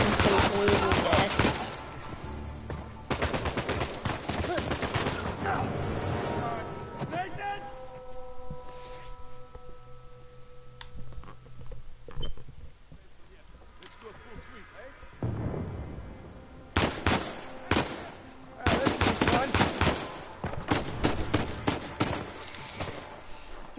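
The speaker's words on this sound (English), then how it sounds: "Shooting through an entire army is fun." Heavy gunfire from the video game Uncharted 4 fills the scene, dense bursts and booming blasts coming in loud waves, dropping away in the middle and then rising again with renewed rapid firing.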